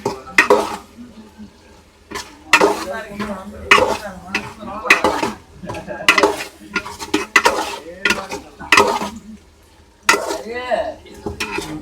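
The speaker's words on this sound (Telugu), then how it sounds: "ఇప్పుడు మళ్ళీ బాగా కలుపుకోవాలి అంతా మిక్స్ అయ్యే వరకు" Yellowfin tuna curry being stirred in a pot aboard a boat: repeated metallic scrapes and clinks of a spoon against the pot in irregular bursts, with a soft sizzle underneath, close and fairly loud.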